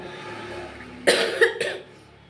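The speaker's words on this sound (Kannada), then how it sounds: "ಕೆಮ್ಮು ಕೂಡ ಆಲ್ರೆಡಿ ಸ್ಟಾರ್ಟ್ ಆಗಿಬಿಟ್ಟೈತೆ" A person with a health upset coughs close by, three quick harsh coughs in a row after a quiet room tone, with no speech.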